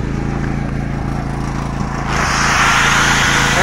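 A small portable generator engine runs with a steady, even drone, growing noticeably louder and brighter about two seconds in as it picks up load or revs, with no talking over it.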